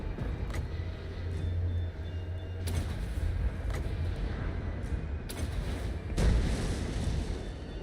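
Cannon fire in the Total War: Warhammer 3 video game booms in several sharp, separate blasts over a continuous rumbling battle din.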